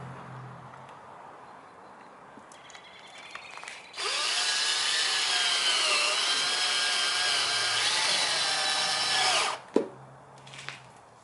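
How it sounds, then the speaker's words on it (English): A power drill drives a self-tapping screw into the frame of a 2011-2015 Dodge Durango, whining loudly and steadily for about five seconds before stopping abruptly, then a brief clank. "I'm gonna use a self-tapping screw like this one, and I'm gonna drill it right into it"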